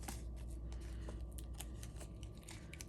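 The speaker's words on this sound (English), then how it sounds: "So I've cut some edges of the dimensionals up" Scissors snip along the edges of Stampin' Dimensionals adhesive foam pads in a papercraft card-making session: a run of quiet, close, crisp cuts with small clicks over a low, steady background.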